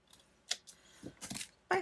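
Paper sticker being snipped off a planner page with scissors, a few short crisp cuts spaced apart, close and quiet, with no talking.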